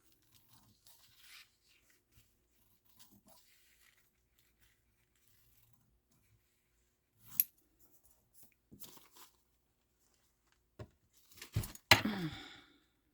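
Scissors cutting Christmas paper napkins into four pieces, quiet scattered snips and paper rustles with a few louder crisp cuts and crinkles near the end.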